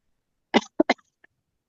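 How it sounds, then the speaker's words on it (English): A short, sharp cough followed by two quick smaller coughs, close and fairly loud, then a faint trailing click in otherwise silent surroundings. "whatever this is that's causing you to cough"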